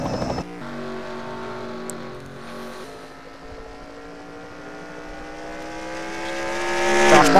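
Race trucks roaring down the backstretch in an SCRL Rainbow Dash Truck Series race at Evergreen, with layered engine drones steadily climbing in pitch and growing louder as they pass close.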